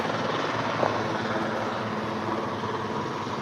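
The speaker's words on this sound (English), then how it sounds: "The chopper has landed." A helicopter landing makes a loud, continuous rotor and engine roar close by, steady throughout with a faint thumping texture and no talk.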